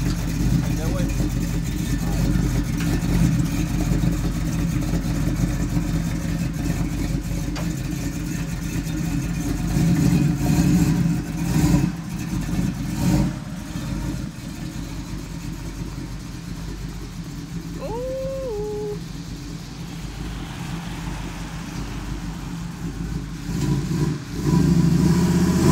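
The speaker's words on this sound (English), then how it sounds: "A car coming from that way." Old-school Oldsmobile Cutlass rumbling as it approaches, engine revving in bursts over steady road and idle noise, with people talking nearby and a short whistle-like tone midway.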